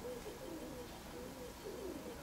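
A pair of pigeons coo faintly, soft low rolling calls repeating a few times over a quiet, noisy outdoor background.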